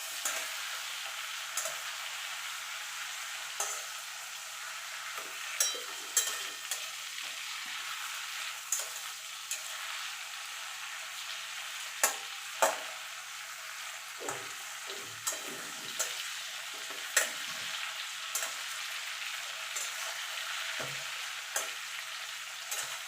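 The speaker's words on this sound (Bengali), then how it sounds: "এবার আলুগুলোকে আমি ভালো করে লাল লাল করে ভেজে নেব।" Potatoes fry in hot oil in a pan while being browned for a mutton curry, giving a steady bright sizzle throughout, broken by occasional stirring scrapes and clinks of a utensil.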